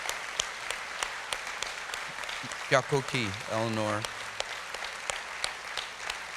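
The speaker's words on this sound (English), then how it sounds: "Let's give her a huge round of applause." Audience applause at a State of the Nation address, steady clapping throughout with a person speaking briefly over it midway.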